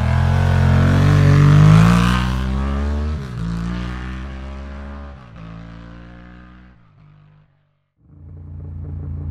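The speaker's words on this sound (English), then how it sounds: "I started the engine, put on my sunglasses," An engine on a motorbike over a hundred years old starts with a loud, close, rising roar, then drops to a lower drone that fades as the bike rides off, falls briefly silent and picks up again faintly.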